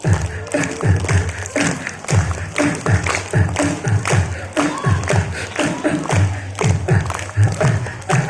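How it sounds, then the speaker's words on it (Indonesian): Children at an Indonesian elementary school clap in strong rhythmic bursts during an Independence Day storytelling session, the claps coming in steady repeated groups, loud and close, with some crowd noise mixed in. "Yuk semangat sambil tepuk tangan."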